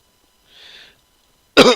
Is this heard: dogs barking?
no